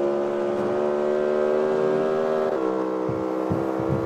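Car engine in the mobile street-racing game CarX Street, a BMW-like sound, holding a loud sustained high rev before dropping and stuttering into short throttle blips near the end, close and with no talk.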